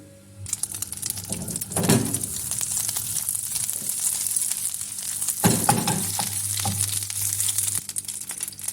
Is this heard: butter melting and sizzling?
yes